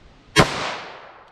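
A single sharp .22 Magnum pistol shot fired from a 2-inch barrel outdoors, a loud crack with a decaying ring that fades over about a second, with no other sounds around it.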